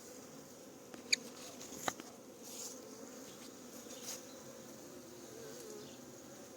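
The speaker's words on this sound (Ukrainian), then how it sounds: "Ну, ось такий раєць." A swarm of bees hums inside a swarm trap, a low, steady drone close by with a couple of faint clicks early on.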